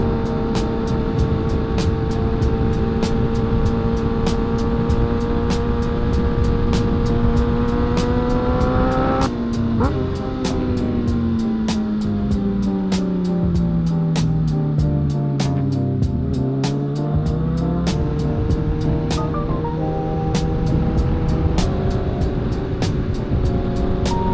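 A 2023 Kawasaki 636 sport bike's engine hums at a steady pitch while riding, then drops as the rider shifts and eases off before building again, close and loud with constant wind rush and regular ticking clicks.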